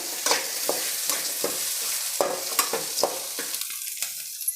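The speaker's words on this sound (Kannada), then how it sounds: "ಕಮ್ಮಿ ಉರಿ ಇಟ್ಕೊಂಡು ಫ್ರೈ ಮಾಡ್ಕೋಬೇಕು" Coriander seeds and chopped ginger sizzling in hot oil as a tempering over a low flame, a steady close fry broken by repeated scraping stirs of a spoon against the pan.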